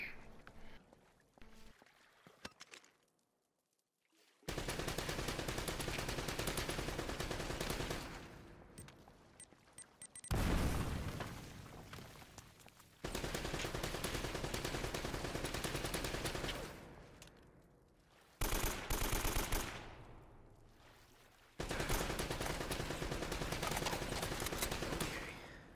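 Automatic weapon fire in Uncharted: Drake's Fortune comes in several long, loud sustained bursts separated by short quiet gaps, with no talking over it.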